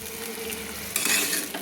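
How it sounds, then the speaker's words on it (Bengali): Fried prawns are stirred into tamarind sauce in a pan, a steady close sizzle with a brighter burst of scraping as the spatula moves through, no talk. "দিয়ে আমি ভালো করে নেড়ে নিলাম। দেখুন খুব সুন্দর করে আমি নেড়ে নিচ্ছি।"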